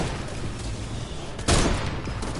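A sniper rifle shot in Fortnite Save the World cracks loudly midway through, standing out sharply over a continuous busy game soundscape.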